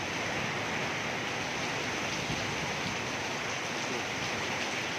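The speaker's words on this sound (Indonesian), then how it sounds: "Hujan badai" Heavy rainstorm with strong wind, a dense, steady hiss of rain and gusts that continues without a break, moderately quiet and diffuse, with no voices.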